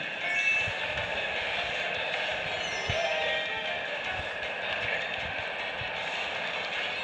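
A train passing in the kart racing game Mario Kart 8 Deluxe on Nintendo Switch, a steady broad rumble with faint rhythmic clacks under continuous game engine noise.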